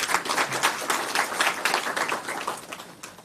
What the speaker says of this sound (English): Can we just give a last round of applause?